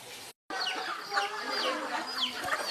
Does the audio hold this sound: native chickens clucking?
yes